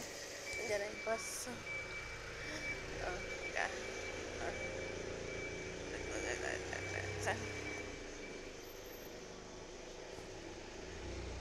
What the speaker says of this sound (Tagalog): Andiyan ang bus.